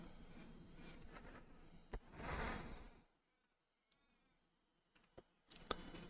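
Computer mouse clicks while capturing samples in a browser-based face-tracking tool, a few sharp isolated clicks scattered across a quiet background with a brief rustling swell.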